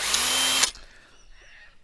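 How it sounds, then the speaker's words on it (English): Drill spinning a countersink bit to clean burrs from the end of a brake line on a 1964 Ford XM Falcon Futura, a loud close whir lasting under a second before cutting off into faint shop noise. "I've got a countersink bit here I use for cleaning out"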